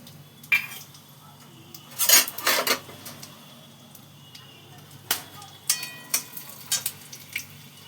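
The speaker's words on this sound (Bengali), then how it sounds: "এতে আমি এই যে তেজপাতা দুটো ছিঁড়ে দিয়ে দিলাম, শুকনো লঙ্কা দুটো ছিঁড়ে দিয়ে দিলাম, আর এই যে গোটা গরম মশলা দিয়ে দিলাম।" Torn bay leaves, dried red chilies and whole garam masala crackle in hot oil and ghee, faint sputtering broken by several sharp utensil clinks and scrapes on the pan.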